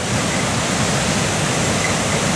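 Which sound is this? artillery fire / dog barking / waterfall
waterfall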